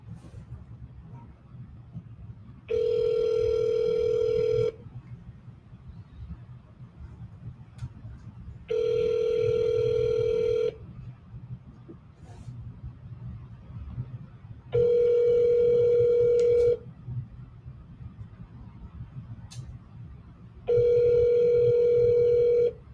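Four evenly spaced electronic telephone ring tones, each lasting about two seconds, sound over a steady low rumble as a call is placed repeatedly.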